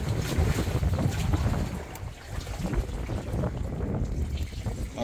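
Strong wind roars across a rolling fishing trawler out on the Bay of Bengal, a steady, loud broadband rush with gusty swells and no talking.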